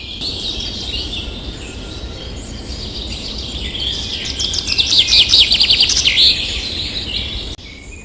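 Cartoon birds chirp and tweet in a lively high chorus near an apple tree, rising into a dense burst of rapid chirps midway before settling, with no talking.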